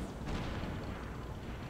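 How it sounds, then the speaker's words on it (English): An airship blowing up in Super Mario Bros. Wonder, a dense rumbling explosion with a brief burst at the start that settles into a steady low roar for under two seconds. "That is another airship exploded."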